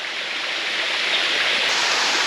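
Water pours steadily down the largest cascade of the Datianshan waterfall group in Xizhi, a drop about four to five stories tall, making a dense, continuous roar close by with no voices.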